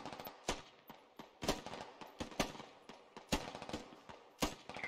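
Gunfire in the military shooter Squad: sharp, fairly close shots crack out in irregular single shots and short bursts, some spaced apart and some clustered, over a quiet background.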